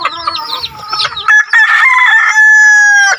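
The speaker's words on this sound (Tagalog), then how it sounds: "Mabait ng mga manok ko mga idol." Backyard chickens clucking close by, followed by a loud rooster crow that rises and holds for about a second, with overlapping bird calls and no talking.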